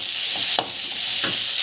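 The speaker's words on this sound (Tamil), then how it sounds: "நல்லா வதங்கட்டும்" Coriander and dried chilies sauté in hot oil with a steady hiss, broken by two quick scraping strokes of a stirring utensil.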